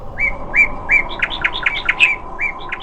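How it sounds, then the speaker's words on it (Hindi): Small birds chirp in a cartoon forest scene, a lively run of bright, quick tweets and short whistled calls in close, clear bursts over a faint background hum. "नन्हे पक्षियों की आवाज से माहौल खुशनुमा बना रहता था"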